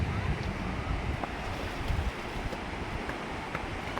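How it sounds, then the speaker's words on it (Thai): Sea waves wash steadily onto the white sand of Ban Chuen Beach in Trat, Thailand, as a continuous surf hiss mixed with heavy wind buffeting the microphone. "ทะเลนะคะ ตรงนี้เขาเรียกว่า หาดบานชื่นค่ะ"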